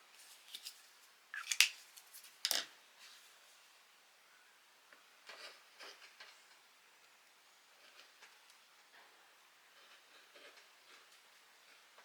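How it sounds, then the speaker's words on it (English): Pinking shears cutting around a 5 inch circle of denim fabric for a rope bowl, heard as faint, scattered crisp snips and rustles in a quiet room, a few louder at the start. "I'm going to take my pinking shear, rotary cutter, and cut around that mark."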